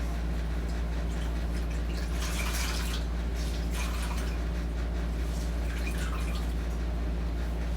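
Washcloth dipped and rinsed in a basin during a patient's bed bath, producing several short dripping and splashing bursts over a constant low hum.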